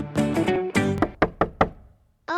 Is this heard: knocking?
yes